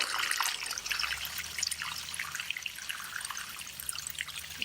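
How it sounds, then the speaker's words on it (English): Rainwater draining out through a small opening in a roof-fed collection tank, a steady trickling, splashing flow heard close and alone with no talking. "First I'm going to open this just to get most of the water out."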